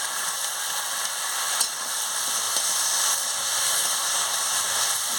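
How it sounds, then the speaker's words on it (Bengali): Vegetables with turmeric sauté in a pan for a prawn and taro stew, giving a steady, even sizzle with faint stirring clicks now and then. "আনাজটাকে ভালো করে কষিয়ে নিচ্ছি"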